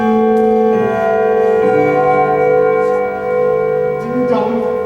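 A church bell chimes the hour during a stage production of A Christmas Carol, one long ringing tone with rich sustained overtones that fills the whole stretch and slowly decays.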